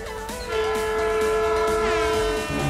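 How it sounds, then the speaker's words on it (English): A loud, steady air horn blast sounds as a sustained harmonic tone for nearly three seconds, with a brief wavering pitch near the start and under lighter background noise. "I'd like to have some air horn right now"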